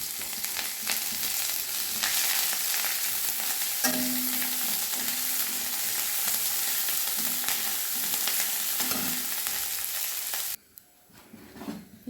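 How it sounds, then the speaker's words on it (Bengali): Whole spices such as cardamom and cloves, with grated ginger, fry in hot oil in a loud, dense sizzle that runs steadily and close, with brief stirring clatters, then suddenly drops to near silence at the end. "ফোড়নটা ভেজে নেব।"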